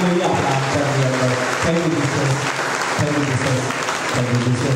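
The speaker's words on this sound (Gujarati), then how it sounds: "આવો બધા જોરદાર તાળીઓથી પ્રભુની આ કૃપાને આપણે બધાને આપણા આચાર્ય અંદર" A congregation at a Catholic worship service at Divine Mercy church in Salun claps loudly and continuously, a dense, enthusiastic applause that fills the room, with voices speaking over it.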